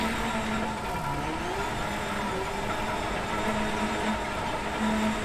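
A steady mechanical gearbox whine and rumble from a rally car in a racing video game, droning continuously at a constant level throughout.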